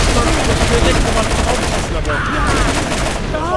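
Rocket launcher explosions and gunfire in the video game Borderlands, a dense, loud barrage of blasts and bursts filling the whole span without pause.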